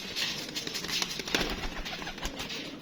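Pigeons, homing flying birds, coo and stir close by, with soft repeated calls and brief fluttering over a steady outdoor background.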